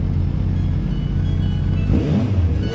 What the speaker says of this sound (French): On entend plus les tours que sur le CB500X.